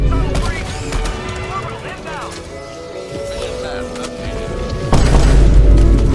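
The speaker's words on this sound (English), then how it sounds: "The break action shotgun is a shotgun you can find on the map in Helldivers 2." Break-action shotgun fire in Helldivers 2, loud booming shots amid a busy battle soundscape of other gunfire and effects, with a heavy blast near the end and a voice talking over it.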